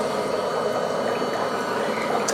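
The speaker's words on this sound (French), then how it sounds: "Les bulles, enfin il y a des bulles. Ça fait beaucoup de bruit, j'ai l'impression." A Revlon Pediprep foot spa bath churns its water into a loud, steady bubbling hiss, heard close up and alone.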